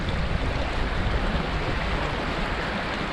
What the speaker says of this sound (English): Look at the river there.